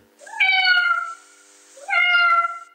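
A cat gives two clear, loud meows close up, each rising then falling, with a short pause between them and no other sounds.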